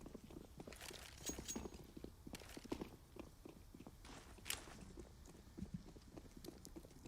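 Footsteps patter irregularly in CS:GO on the Overpass map as several players move, soft and distant thuds spread across a quiet background.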